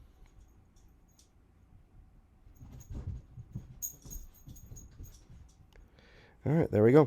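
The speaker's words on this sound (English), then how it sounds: "That's my dog in the background whining." A dog whines nearby, giving a few loud, wavering, high-pitched whimpers at the very end, after quiet speech and soft mouse clicks.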